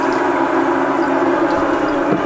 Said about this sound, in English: I definitely hear water getting shot out of the bilge in the back of the boat